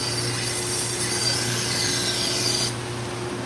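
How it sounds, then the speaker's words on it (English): A sandpaper eraser from Harbor Freight scrubs against an abrasive disc or belt, a steady close rasping rub that runs continuously before cutting off near the end. "It's a sandpaper eraser."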